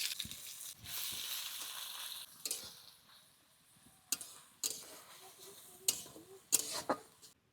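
Onions dropped into hot oil with cumin, dried chilli and bay leaf, frying with a soft sizzle broken by sharp clinks and scraping stirs at irregular intervals, fairly close and quiet, with no talk.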